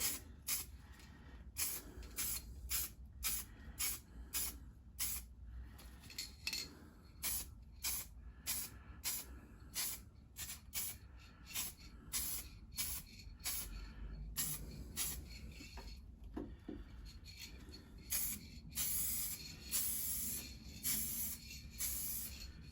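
A spray gun applies paint to the wheel arch of a Jeep Patriot in a series of short, sharp hissing bursts, repeated steadily and close by with brief pauses between passes.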